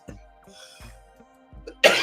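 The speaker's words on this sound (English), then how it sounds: "Pardon me for coughing on stream like a little bit." Three sharp coughs spaced about a second apart, close and fairly loud, followed by a brief burst of noise at the end.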